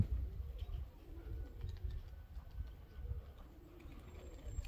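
Pigeons coo softly, low and faint murmuring calls repeating in a loose rhythm against quiet background noise, with no talking.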